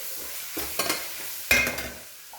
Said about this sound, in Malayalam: അത് ഇളക്കി കൊടുക്കുന്നു.